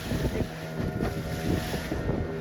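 A small boat moving on the sea off Malvan in wind, with a steady rushing of water and wind buffeting the microphone, continuous and fairly close, no talk.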